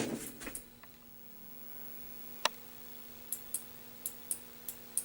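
Arcade coin switch wired into a 1980 Sega Monaco GP board, clicked by hand: a run of small, sharp, close clicks, about six in quick succession, over a faint steady electrical hum.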